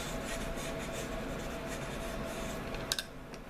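Steady, faint rasping scrape of a blade cutting small wedge notches into a wooden arrow shaft, continuous and close, with a couple of sharper clicks near the end.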